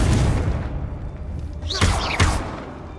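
A Confringo blasting spell in Hogwarts Legacy, two sharp booming blasts close together over a loud rumbling game background.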